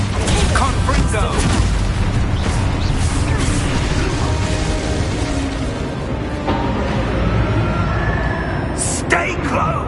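A Confringo blasting spell goes off in Hogwarts Legacy with a loud, booming burst under dense game noise and voices, then rumbles on with crackling debris.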